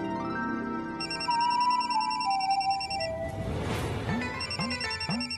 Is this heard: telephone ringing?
yes